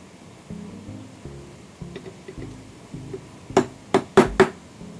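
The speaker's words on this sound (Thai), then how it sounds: "ก็ใช้เหล็กตอก" Four sharp metallic strikes in quick succession, a hammer tapping on a steel punch to drive a bearing into a Zenoah G4K gear head, following quieter clinks and handling noise.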